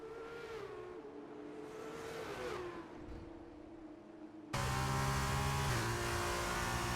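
Race cars on the final lap of a Formula 2 race at Great Britain in an F2 racing video game, engines whining and revving steadily, then a louder, denser burst of engine roar as more cars close in.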